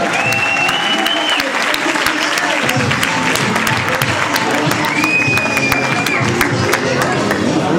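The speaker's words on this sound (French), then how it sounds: "faire également un tonnerre d'applaudissements à Claude Bartolone" An indoor audience at a political speech event breaks into sustained, loud applause welcoming a speaker, dense clapping with crowd noise and a few voices mixed in, continuing steadily throughout.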